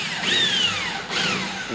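A power drill boring into an aluminium window frame: the motor whines up, sags in pitch as the bit bites, then revs again in a second short burst, close and fairly loud.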